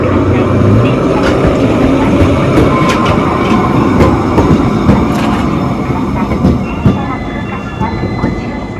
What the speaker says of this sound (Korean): 삿포로는 이렇게 도로에 전철이 이렇게 있어서 신기한 것 같아요